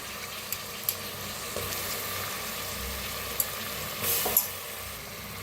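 Peas, peanuts, moth beans and potato pieces frying in oil in a pan, a soft continuous sizzle with occasional clinks and scrapes of stirring, fairly quiet and close.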